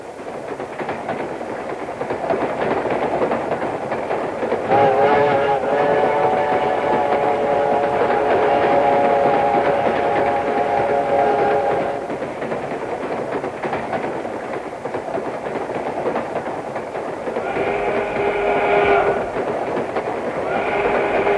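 Departing train in the video game Monet: The Mystery of the Orangery, a steady rumbling roll with harmonic whistle-like tones swelling mid-way and again near the end, loud and continuous with no talk.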